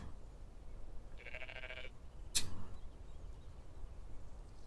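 Goat bleating in a video game: a single short nasal bleat in the middle of a quiet game soundtrack, followed soon after by a sharp click.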